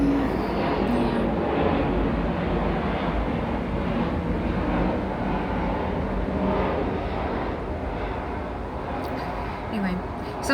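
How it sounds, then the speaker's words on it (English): A fixed-wing airplane passes low overhead near an airport, a broad sustained roar that holds steady and then slowly eases, loud and continuous, with someone talking over it. "here's an airplane. I live a lot closer to the airport now."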